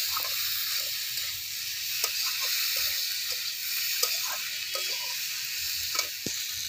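Fried potatoes tipped into sizzling, well-cooked masala for a vegetarian cabbage curry, giving a steady bright hiss of frying oil with scattered crackles and pops throughout, close and continuous.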